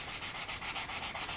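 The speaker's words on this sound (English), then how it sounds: "So this is an area where I didn't spend enough time sanding smooth" Rhythmic, scratchy strokes of a very low grit sanding stick rubbing the rough surface of a resin anime figure to smooth it after mold line removal, close and steady with no talk.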